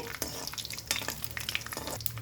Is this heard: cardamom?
yes